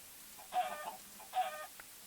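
A chicken in the Minecraft video game gives two short clucks, fairly faint against a quiet background, with a small click after them.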